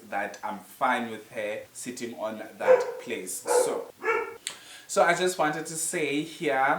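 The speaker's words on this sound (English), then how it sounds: "I'm so sorry about the dog" A household dog barks somewhere nearby, its yaps mixed in under a woman's continuous, fairly close speech.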